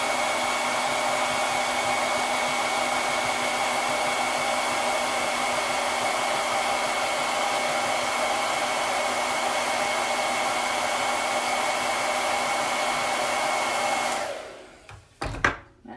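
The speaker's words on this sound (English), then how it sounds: "I'm going to blow dry that first, just so I don't mess it up anymore." A hair dryer blows steadily on chalk paste on a pom-pom craft project, a loud continuous whooshing hum that holds for about fourteen seconds, then cuts off, followed by a few soft handling clicks.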